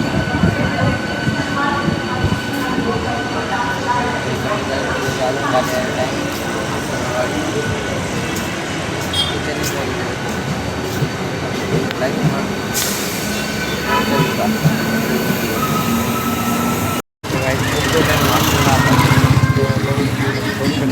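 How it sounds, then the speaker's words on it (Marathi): A train rolls past Vasan station, a loud, continuous rumble and rattle of wagons that fills the whole stretch, with indistinct voices mixed in and a brief dropout near the end. "समोर ट्रेन चालली"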